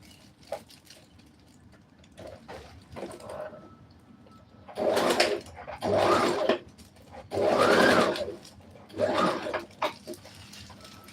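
A sewing machine stitching a bubu dress: four loud whirring runs of a couple of seconds each with short pauses between them, preceded by quieter handling and faint sounds.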